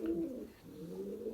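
A pigeon being cared for after drinking water gives a soft, low cooing, faint and close, alone with no talk.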